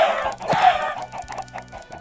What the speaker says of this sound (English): Now we get the chickens and the eggs.